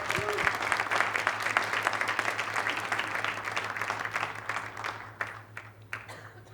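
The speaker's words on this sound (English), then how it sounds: "I would like you to join me in a big, big round of applause" A big round of applause from a startup demo-day audience, dense and loud at first, then thinning into scattered claps near the end, over a steady low hum.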